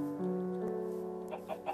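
Chickens cluck in the Minecraft video game, a run of short, steady game-sound clucks with a few brief higher calls near the end, fairly close and alone.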